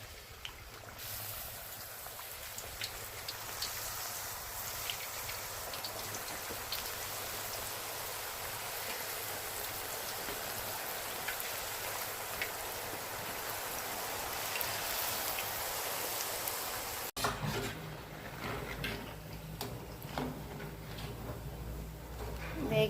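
Rice crackers (chekkalu) deep-fry in hot oil with a continuous bubbling hiss that holds steady, then changes character abruptly near the end.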